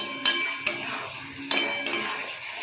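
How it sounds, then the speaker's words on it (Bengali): Magur catfish cooking in a pan of curry sauce, with a steady frying hiss and bubbling simmer and a few sharp clinks of a spoon stirring against the pan. "মাগুর মাছ আপনি যতই ভাজুন, কিন্তু ঝোলের সঙ্গে কিন্তু আপনাকে 5-10 মিনিট ফোটাতেই হবে।"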